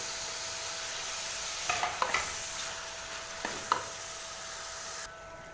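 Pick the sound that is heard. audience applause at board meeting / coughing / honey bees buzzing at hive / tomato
tomato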